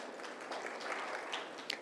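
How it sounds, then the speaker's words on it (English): Audience applause greets a speaker at a business conference, a quiet, fairly distant patter of clapping that continues steadily for a couple of seconds. "Can we have a big round of applause for Mr. Steve?"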